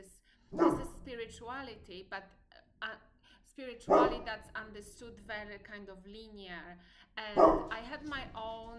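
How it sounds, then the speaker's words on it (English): A dog barks three times, spaced loud sharp barks at moderate distance, each followed by a short ringing tail, while a person speaks calmly between them. "apologies for the dog, it's just an additional sound."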